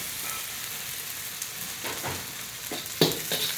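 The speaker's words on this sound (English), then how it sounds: "Just give our salted fish a nice quick cook up." Salted fish frying in a hot wok, a steady sizzle broken by a few sharp clinks of a utensil near the end.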